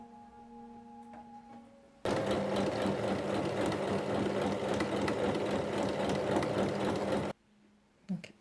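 A sewing machine stitches a seam in fabric, running loud and steady for about five seconds after a quiet start, then stopping abruptly, with a brief clunk near the end.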